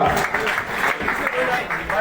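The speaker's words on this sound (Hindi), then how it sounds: "जोरदार तालियों से स्वागत करें श्री अरविंद शर्मा जी का" An audience claps to welcome Arvind Sharma at a Brahmin community gathering, a steady dense round of applause throughout with a voice over it.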